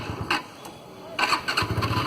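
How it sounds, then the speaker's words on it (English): A second-hand motorcycle with a hard-starting, cold engine is cranked. The starter churns in short bursts, with a brief sputter in between, then a longer, louder burst of uneven attempts near the end. "Let's try to start the bike again."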